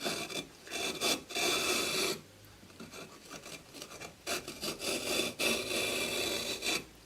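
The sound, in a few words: pad saw cutting channels in a kiln brick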